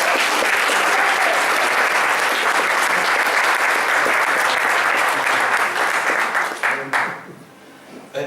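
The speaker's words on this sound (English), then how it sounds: "So we'll just give it a little clap" Wedding guests clap and cheer at the speeches for the bride-to-be's flower arrangements, a dense, sustained round of applause that tapers off into scattered claps near the end.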